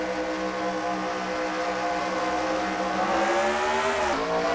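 NASCAR race cars in a SEGA video game pull away at the start at Atlanta: a loud pack of engines drones and whines, rising in pitch together and shifting sharply near the end.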